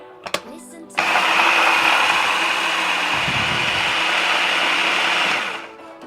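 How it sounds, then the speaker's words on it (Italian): A kitchen blender whirs loudly as it blends sugar with lemon zest, starting abruptly after a couple of clicks, holding a steady high-pitched motor roar for about four and a half seconds, then spinning down. "Mettiamo lo zucchero e le zeste di limone nel frullatore. Frullandoli insieme avremo uno zucchero profumatissimo."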